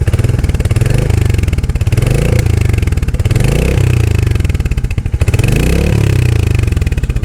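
A Royal Enfield Hunter 350 motorcycle on its factory exhaust revs loudly and close by, rising and falling in three repeated throttle blips over a steady engine rumble, with no voices.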